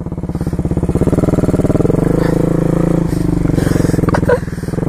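A motorcycle engine drones steadily and loudly while the bike is ridden through snow with no grip, its pitch shifting slightly as the throttle changes, with faint clatter near the end.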